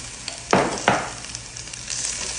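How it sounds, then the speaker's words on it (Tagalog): Chopped ginger and garlic sizzle in hot oil with onion in a pan, with two loud, close scraping stirs near the start, then a steady soft frying hiss. "I-mix ko lang siya. Itong hiniwa kong mix ng ginger at garlic."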